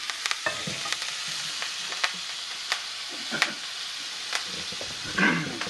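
Butter sizzling in a pan with thyme and rosemary, a constant hiss and crackle punctuated by sharp pops and spatters, heard up close with no talking.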